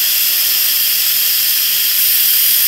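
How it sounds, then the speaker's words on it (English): Steam hisses loudly and continuously from the pressure release valve of an Instant Pot Duo Nova 3-quart electric pressure cooker, a steady, close, unbroken rush with no pauses. "There it goes. The steam is releasing."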